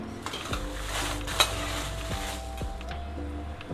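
Red chillies dry-roasting in a pan with a little oil and rock salt, heard as steady rattling and scraping stirs with a light sizzle underneath, one sharper clink standing out, no voices.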